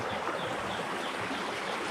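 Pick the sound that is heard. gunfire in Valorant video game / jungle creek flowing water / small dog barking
jungle creek flowing water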